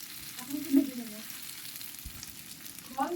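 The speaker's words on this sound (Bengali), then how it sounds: "এখন এটাকে একটু ভেজে নেব।" Jujubes, cracked open by hand, fry quietly in a pan for a sweet-sour pickle, a soft sizzle broken by a few brief stirring clinks and scrapes, faint and close with no talk.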